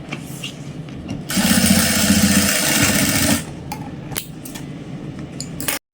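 An electric sewing machine stitches elastic onto a pair of straight pants, giving a loud steady mechanical whir for about two seconds amid lighter handling clatter, then stopping.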